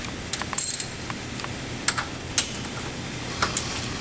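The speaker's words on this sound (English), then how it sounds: "It requires a 3/4 inch ratchet" Clicking of a 3/4 inch ratchet loosening engine trunnion bolts during engine alignment on a MasterCraft boat, a few short separate metallic ticks and one quick burst, close by and with no talk.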